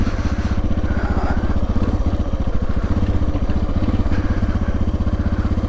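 2023 Suzuki DR650 motorcycle engine running close by, a loud steady single-cylinder thump with a fast even pulse and a slight crackle, unbroken for the whole stretch with no talk.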